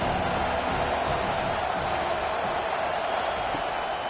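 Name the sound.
football stadium crowd cheering for the defense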